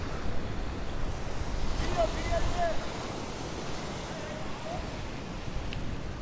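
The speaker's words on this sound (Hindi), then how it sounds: "जहाँ पे बहुत बड़ी बड़ी लहरें उठ रही हैं" Large monsoon waves crash and surge at a Goa beach, a broad continuous roar of surf mixed with wind buffeting the microphone, with faint voices in the background.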